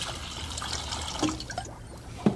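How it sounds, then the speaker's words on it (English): Vinegar being poured into a pitcher, a soft liquid trickle and splash that runs close by for a couple of seconds, ending with a small drip or clink. "Pour some vinegar into a pitcher."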